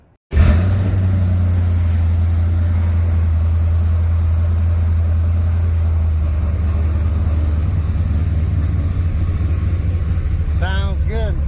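A 2002 WS6 Trans Am drives with a loud, steady, deep engine drone that starts abruptly and holds throughout, and a voice speaks briefly near the end.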